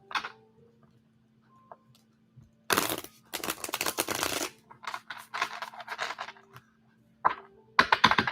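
Tarot cards, firm with a slight bend, shuffled in several quick riffling bursts of crisp fluttering clicks, close and clear against an otherwise quiet room, with short pauses between shuffles.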